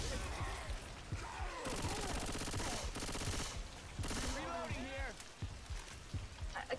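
Bursts of rapid automatic gunfire in an online shooter scrim, loud dense volleys in two or three stretches, with players talking between and over the shots.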